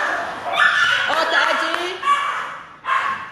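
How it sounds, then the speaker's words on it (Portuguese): Cocker spaniel dogs scuffling indoors, with close yips, whimpers and short barks in bursts, mixed with a voice talking and reacting over them. "Meus cachorros brigando, gente, desculpa."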